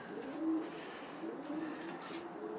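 Portuguese tumbler pigeon cooing softly in repeated low, rolling calls, faint and close, over a quiet background with light chirps.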